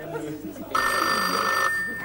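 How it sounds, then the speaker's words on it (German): A telephone bell rings once for about a second, loud and close, over a quiet room background. "Das Telefon."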